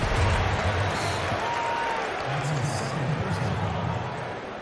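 Hometown basketball crowd in NBA 2K19 keeps up a broad, steady roar of cheering and applause, with a commentator's voice talking over it.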